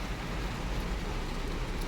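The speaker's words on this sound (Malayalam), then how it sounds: "ഭയങ്കര മഴ." Heavy rain falling outdoors, a dense, steady wash of hiss and rumble filling the whole moment with no break.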